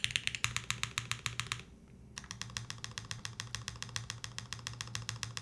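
Keys on a Kyubi mechanical keyboard kit prototype being typed on in a steady run of crisp, close clicks and clacks, with a brief pause partway through before the rapid keystrokes resume, under a faint low hum.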